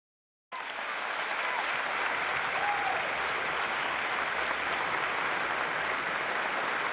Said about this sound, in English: Even Fetterman didn't stand up. But he is applauding it